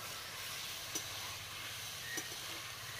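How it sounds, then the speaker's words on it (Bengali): Potatoes sautéing in hot oil with turmeric and chilli for a tuna fish curry, a quiet, steady sizzle with faint hiss and two soft clinks of stirring. "হলুদ গুঁড়োটা দেওয়ার পরে আমি বেশ কিছুক্ষণ কষিয়ে নেব আলুটা একটু।"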